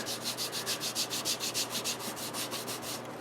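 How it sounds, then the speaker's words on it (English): Rapid, even back-and-forth strokes of sandpaper rubbing on metal frets, close up and steady, about a dozen scrapes in quick rhythm. "I am sanding now in the other direction"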